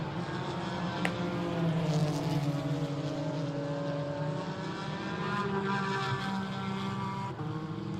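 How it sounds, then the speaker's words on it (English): A GT4 race car accelerating at Hockenheim, a steady engine drone with rising tones as it pulls through the gears, heard at a moderate distance and fairly quiet. "Car accelerating now down towards turn 7."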